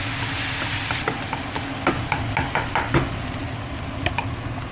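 Food with garlic powder sizzling in a pan while being stirred, a constant hiss under scattered scraping and clinking of the utensil against the pan.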